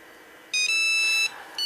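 A Nokia 5165 mobile phone plays its standard ringtone, a loud electronic beeping melody: a sustained run of tones, a short pause, then the next phrase starting.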